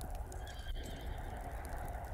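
A horse neighs and whinnies amid steady stable ambience, close and fairly loud throughout the short stretch with no speech.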